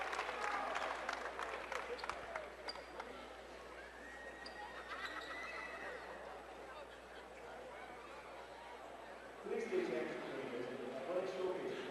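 Gym crowd at a high school boys basketball state third-place game clapping for a senior Walsh Eagles player leaving the floor, a modest, steady round of applause under courtside noise, rising again near the end.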